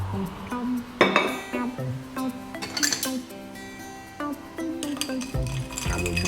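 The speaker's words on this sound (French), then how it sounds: "On mélange un tout petit peu." Siphon-brewed coffee with milk being stirred: a spoon clinks and scrapes against a cup in irregular taps, close and fairly clear, with faint ringing tones between.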